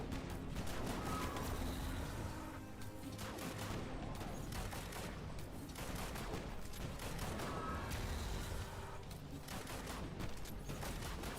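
Rapid bursts of gunfire from the Destiny 2 video game crackle in dense volleys, loud and close, with short pauses between strings of shots.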